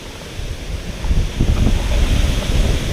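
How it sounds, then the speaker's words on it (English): Strong wind buffets the microphone with a loud, continuous low rumble and roar, building after the first second and staying steady. "really windy."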